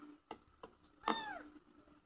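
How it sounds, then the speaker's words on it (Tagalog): A restless pet cat gives a single clear, close meow with a falling pitch, after a few soft taps and clicks. "Masyado na makulit ang pusa ko."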